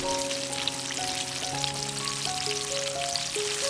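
Breaded chicken drumsticks deep fry in hot oil, a steady crackling sizzle that runs throughout beneath a melodic music backing.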